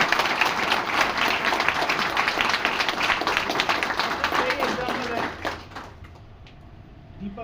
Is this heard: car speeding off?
no